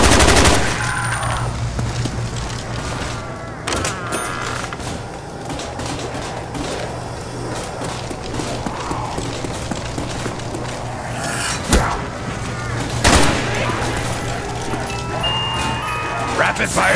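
Rapid machine gun fire from a Call of Duty zombies match on Kino Der Toten, a steady, busy rattle with a few sharper louder blasts, running beneath frequent talking throughout.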